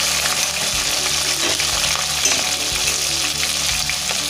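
Tomatoes frying in a pan of prawn curry base for a Kerala dish, giving a steady, close, loud sizzle with faint stirring scrapes throughout and no talk.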